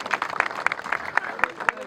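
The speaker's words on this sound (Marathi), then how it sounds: "त्यांच्यासाठी एकदा जोरदार टाळ्या वाजवल्या पाहिजे" A crowd at a youth rally clapping in a rhythmic, evenly spaced beat, moderately near, with voices under the claps.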